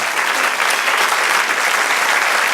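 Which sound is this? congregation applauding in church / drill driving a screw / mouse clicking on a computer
congregation applauding in church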